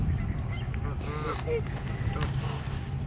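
A goose honking while being fed by hand, several short nasal honks mixed with talk from the people feeding it.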